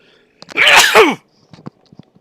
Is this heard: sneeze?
yes